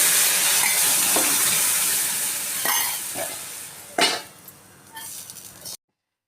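Boiled tamarind stew is poured into a hot pan of tempering with curry leaves and sun-dried vadiyalu, sending up a loud sizzle that fades as a utensil stirs and clinks against the pan.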